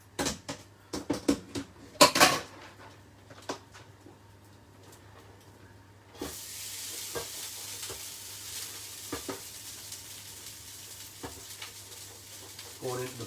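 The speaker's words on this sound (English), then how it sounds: "What I am going to do is just break that rice up." Cooked basmati rice is broken up with a utensil, making several sharp scraping clacks early on, then a steady sizzle in the hot frying pan with occasional taps.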